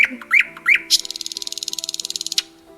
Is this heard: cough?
no